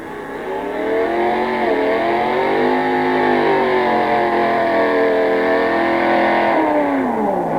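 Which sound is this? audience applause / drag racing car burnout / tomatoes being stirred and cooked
drag racing car burnout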